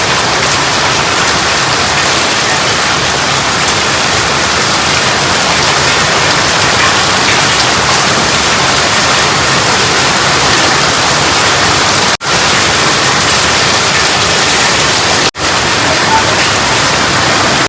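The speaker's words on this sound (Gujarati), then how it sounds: "વરસાદ જો ધોધ માર ભાઈ ચાલુ થઈ ગયો" Heavy rain pours down in a dense, constant hiss, loud and unbroken apart from two brief dropouts near the end.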